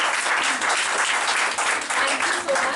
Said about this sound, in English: So I'd like you all to once give them a huge round of applause.